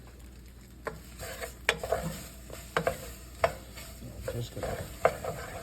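Butter swirled in a hot pan with ground chicken, vegetables and pasta gives a low, steady sizzle, broken by scattered clicks and scrapes of a utensil against the pan, with a brief quiet spoken phrase.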